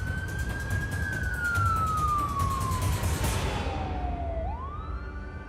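An ambulance siren wails close by, one long tone sliding slowly downward and then rising again, over steady road and engine rumble.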